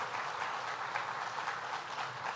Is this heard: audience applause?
yes